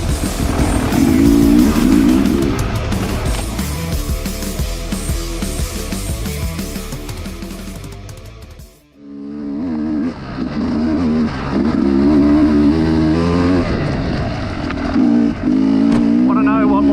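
Riding a 2021 Sherco 300 SE two-stroke dirt bike between trees: a loud, close engine drones and revs continuously, dropping out briefly near the middle before surging back with rising and falling pitch.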